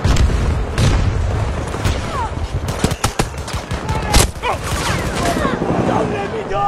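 Battlefield 2042 gunfire on PS5, a dense, loud stream of rapid automatic shots and booms with the mix busy throughout.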